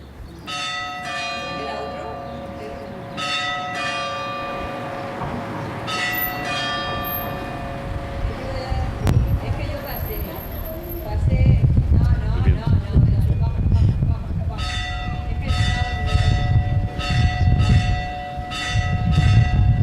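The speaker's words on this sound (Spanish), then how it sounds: "vamos a escuchar un sonido en la actualidad de las campanas de Zarandona" Church bells of Zarandona ring in repeated peals, clear and resonant, with street traffic and traffic-light noise growing louder beneath them in the second half.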